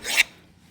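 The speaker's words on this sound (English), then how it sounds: "I'm just gonna take a file, kind of a shitty file, and just see what I can get out of here" A worn metal file scrapes rust from LBZ torsion bars in one short, harsh rasping stroke, close and loud, ending abruptly.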